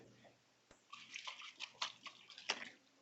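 Water from a plastic bottle splashes and trickles onto a leaf, soft uneven bursts of pouring and dripping heard close up and fairly faint in a quiet room.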